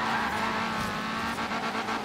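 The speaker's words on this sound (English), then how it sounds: "I love hearing the different cars, the different sounds, the exhaust" Racing car engines in Forza Horizon 3, including an Ariel Atom, roar steadily with a high revving whine and some tire squeal, loud and continuous throughout.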